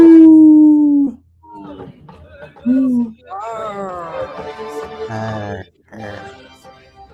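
Wolf howling, with a long sustained howl at the start, a brief second howl, then a layered, wavering chorus of howls that fades out, fairly loud and close.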